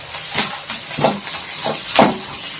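Ground onion paste hits hot oil in a pan alongside curry leaves for a green plantain gravy. About four short, loud hissing sizzle bursts sound at uneven intervals with quieter gaps between.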